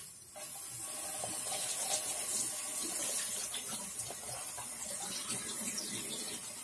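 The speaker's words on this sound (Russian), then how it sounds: "Электроды промыть под струей воды, в том числе зону под электродами." Running tap water pours steadily over electrodes being rinsed, a constant hissing splash at moderate level with no speech.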